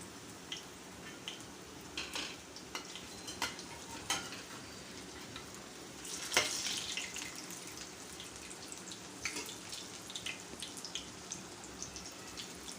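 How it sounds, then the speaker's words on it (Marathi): Chana dal vadas deep-fry in hot oil, giving a steady close sizzle and bubbling throughout, with occasional sharper crackles and clinks of a utensil moving the fritters. "बाकीचे सर्व वडे अशाच प्रकारे तळून घेऊया"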